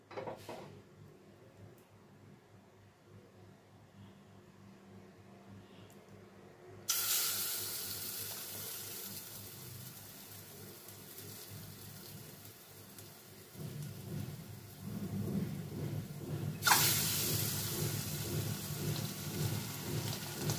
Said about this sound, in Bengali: এবার এক এক করে ডিমগুলো বেসনের ব্যাটারে ডুবিয়ে আমি তেলে ভেজে নেব।